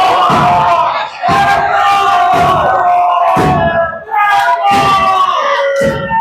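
At a live independent wrestling show, a loud crowd cheers and chants in a steady rhythm, with repeated bursts of shouting and stomping filling the hall.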